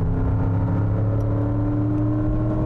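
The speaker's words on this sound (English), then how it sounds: "I'm going to accelerate through the corner." Range Rover Sport HSE Dynamic accelerating through a corner, a steady, loud engine drone with low tonal hum throughout, heard from inside the cabin with no talking.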